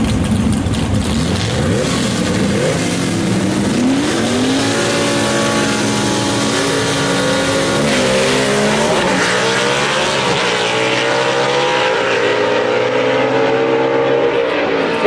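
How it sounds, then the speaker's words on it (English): A gasser drag race car launches hard at Gulfport Dragway, its engine roaring loud and continuous with rising revs and tire squeal as it pulls away down the strip. "that car left very violently from the line"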